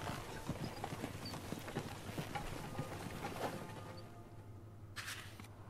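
Horse hooves clip-clop steadily through a fantasy battle scene in the video game Ash of the Gods: Redemption, a rapid rhythmic trot over a constant low droning score, ending in a brief brighter burst.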